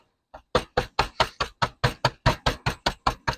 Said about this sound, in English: Try to crush them up as thin as you can crush them without making a mess and knocking a hole in your bag